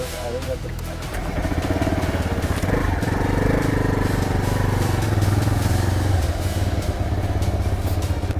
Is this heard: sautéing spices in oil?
no